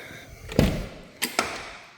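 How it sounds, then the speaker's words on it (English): Door of a Z31 Nissan 300ZX being opened, a close unlatching thunk followed by two quick clicks and knocks, with no talk. "we'll go ahead and just open the door"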